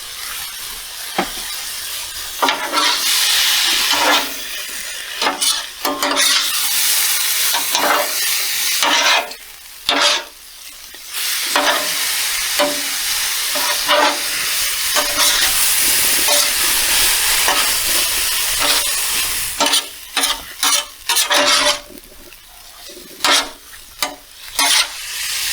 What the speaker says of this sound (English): Get it all thoroughly mixed together. Get all them juices all over your coleslaw mixture, your cabbage